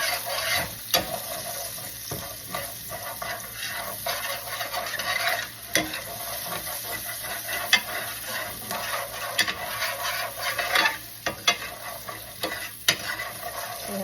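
Ingredients for Alfredo sauce frying in a pan give a continuous close sizzle, with frequent scrapes and light knocks of a utensil as they are stirred, fairly loud and steady, no speech.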